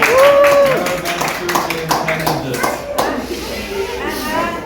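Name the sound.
audience clapping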